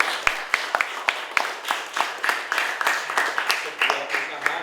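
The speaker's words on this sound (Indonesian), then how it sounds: "Ya, tepuk tangan untuk mereka." Audience clapping for students after their research presentation on smartphones and eye and mental health, a steady patter of many hands with sharp individual claps standing out, fairly close and continuous throughout.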